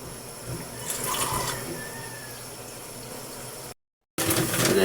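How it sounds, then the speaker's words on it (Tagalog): Water runs into a cooking pot for pancit with kangkong, a steady rushing pour close by that breaks off briefly before resuming. "Lagyan ko na ka-idol tubig"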